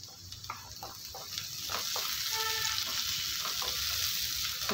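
Steady oily sizzle of vegetables with chopped tomato sautéing lightly in oil in a pan, with a few stirring clinks and scrapes near the start.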